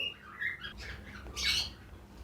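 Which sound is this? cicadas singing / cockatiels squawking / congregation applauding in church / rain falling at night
cockatiels squawking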